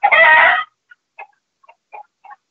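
A hen named Henrietta gives a loud close squawk followed by a few short soft clucks spaced out in a quiet setting.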